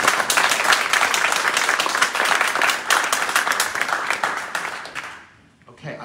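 An audience at a co-op history event bursts into sustained applause, dense and loud for about five seconds before quickly fading out, with a brief voice at the very end.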